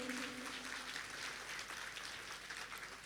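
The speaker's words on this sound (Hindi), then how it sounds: "तो जोरदार खुद के लिए तालियां तो बजनी चाहिए।" Applause from a seated audience at a spiritual talk, a steady broadband wash of many hands clapping that fills the whole stretch, fairly distant and even, with a faint tonal hum underneath.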